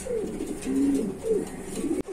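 King pigeons, a big-sized breed, coo at a pigeon farm, several low, throaty coos repeating close by over a faint background hum, with no talking.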